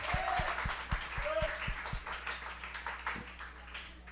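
Members of a church congregation in Darigayos clap, scattered hands forming light uneven applause with a few sharper claps near the start, while voices talk over it.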